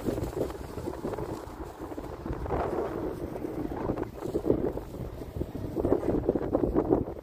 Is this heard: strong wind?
yes